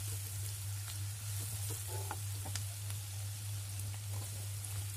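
Onions frying in a pan for a broken-wheat daliah porridge make a constant, soft crackling sizzle, with a steady low hum beneath and a few faint taps, and no one speaking.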